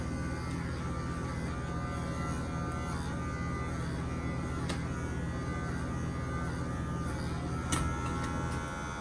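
Electric pet clippers trimming a Yorkie's coat give a steady, close buzzing hum that runs without a break, with a faint click near the end.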